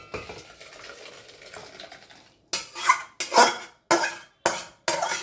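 Turmeric-red dal with dry chillies is tipped and scraped out of a metal pan: soft stirring at first, then five loud, separate metallic scrapes and clanks close by.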